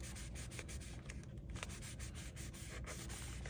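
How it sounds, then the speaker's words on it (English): Paper flower petals for a 13-inch paper rose rubbed by hand, a steady close scratchy rustle of paper friction with small repeated strokes, continuous and fairly quiet, no voices. "You can also blow and then just rub."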